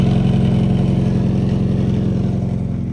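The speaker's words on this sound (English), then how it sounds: "It honestly sounds a lot worse, only because there's so many holes in the exhaust from it being so low." A Nissan 240SX engine idles close up through a leaky, holed exhaust, a loud, rough, evenly pulsing burble with a steady low throb and no talk over it.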